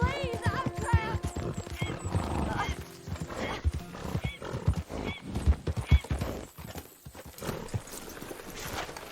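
Horses whinny and neigh several times amid clip-clopping hooves and dramatic background music in the video game Red Dead Redemption 2, with a voice speaking in between.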